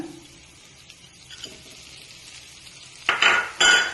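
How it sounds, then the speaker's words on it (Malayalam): Fried chicken tipped into a pan of stir-fried capsicum, cashew, ginger and garlic for dragon chicken: quiet scraping at first, then two loud bursts of sizzling and stirring near the end. "ഇനി നമ്മൾ നേരത്തെ കോരി മാറ്റി വെച്ചിട്ടുള്ള ഈ ചിക്കൻ ഇതിലേക്ക് ഇടുകയാണ്"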